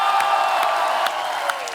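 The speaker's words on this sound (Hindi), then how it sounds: "आप सबकी जोरदार तालियों से स्वागत करना चाहूंगा" An audience at a musical night welcomes a performer with a loud, sustained wash of cheering and applause. Scattered whoops and whistles rise above the steady crowd noise.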